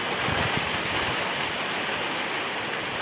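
Heavy rain falls outside a bedroom window, a loud continuous rushing hiss like a waterfall that holds steady throughout without any talking.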